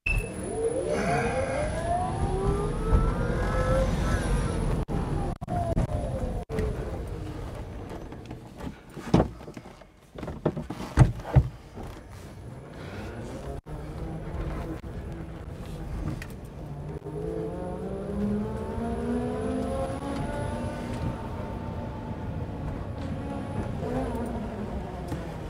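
Electric Porsche 914 pulling away in first gear, a whining motor that rises and falls in pitch with a steady road rumble, easing off midway with a few clunks before spinning up again.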